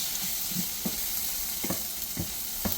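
Tomato paste being stirred into peppers and onions frying for chili, a soft continuous sizzle with several low thumps and scrapes of the spoon, close and fairly quiet, no speech.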